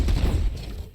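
Distant, muffled explosion bursts from the sci-fi shooter game L.A.P.D. 2195, a quick rumbling cluster of booms that fades within a second.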